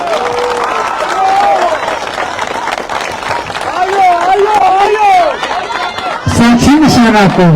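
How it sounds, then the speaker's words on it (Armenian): Audience applause and crowd noise at an Armenian political speech, steady clapping with cheering throughout, voices calling out over it and a louder burst near the end. "եթե ով համաձայնա թող ծափ տա"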